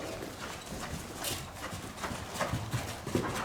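Hoofbeats from a horse cantering in a riding lesson in a soft arena, a muffled rhythmic three-beat thudding heard at moderate distance over a steady background.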